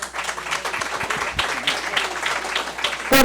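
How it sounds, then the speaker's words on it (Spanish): An audience claps for an author at a book launch for a work on inequality: brief, fairly close applause from a small crowd, with a louder burst of clapping right at the end. "Hay que darle un fuerte aplauso a Raimundo."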